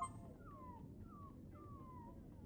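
A dog in the video game Hercule Poirot: The London Case gives three soft, drawn-out whimpering whines that fall in pitch, spaced about half a second apart and heard quietly over a low background hum.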